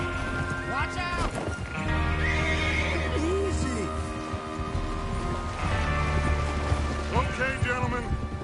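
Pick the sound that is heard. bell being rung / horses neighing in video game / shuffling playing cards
horses neighing in video game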